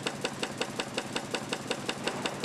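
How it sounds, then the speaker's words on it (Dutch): A very old, slow-running Kromhout engine beats steadily, about eleven even knocking pulses in under three seconds, with a clattery mechanical ring over a low idle rumble; no talking. "zo'n hele ouderwetse motor zo langzaam lopen."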